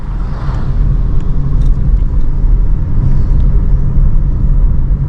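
A car overtakes another vehicle on a mountain road, heard from inside as a steady low rumble of road and engine noise that stays even throughout the few seconds.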